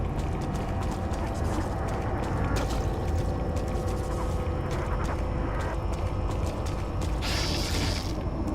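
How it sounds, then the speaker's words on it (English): Shotgun being reloaded in Resident Evil 4, a run of close mechanical clicks and ratcheting clacks as shells are loaded, over a steady game background with a brief hiss near the end. "We are going to reload our shotgun."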